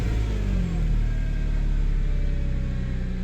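A 2001 Subaru Outback engine runs loudly at close range with a steady low rumble, settling toward idle with slight uneven pulsing, and no one speaks.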